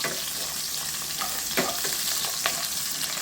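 Dried chilies, garlic, onion and curry leaves frying in oil for a village-style fish curry, a steady close sizzle with a few soft stirring scrapes.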